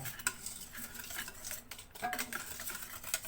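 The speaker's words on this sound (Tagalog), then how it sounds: "Haluin natin para hindi magbuo-buo." Pandesal dough mixture of powder and milk is stirred in a bowl, giving soft, quick scraping and tapping sounds of a utensil against the container, faint and close.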